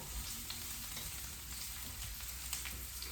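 Shallot sizzling steadily in olive oil in a hot pan for a vegetarian marsala, a continuous close crackle with small pops and no talking.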